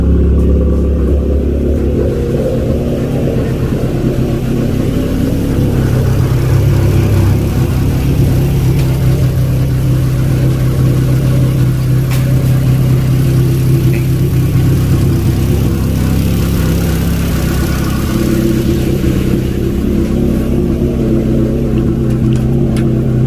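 A car's engine runs steadily with all its electrical systems switched on, giving a loud, continuous low rumble that holds close and constant, with a slight mid-range hum under it.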